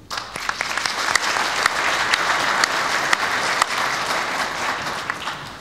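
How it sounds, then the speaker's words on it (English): An audience at an international conference applauds, with a full, sustained round of clapping and sharp individual claps standing out throughout. "So please join me with applause to all those people."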